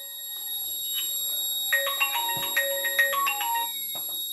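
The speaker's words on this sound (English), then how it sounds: "One calling alert coming." Incoming call alert ringtone from a GSM module on an Arduino-based vehicle accident and alcohol detection kit, a repeating electronic melody of short rising and falling beeps over a steady background hum.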